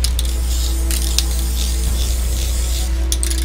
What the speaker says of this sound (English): I'm gonna go ahead and spray this real quick.